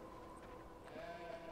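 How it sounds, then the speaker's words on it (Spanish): Sheep bleating in the video game Beyond Two Souls, faint and distant, with a thin wavering call rising late over a quiet outdoor ambience. "¡Oh! He escuchado ovejas."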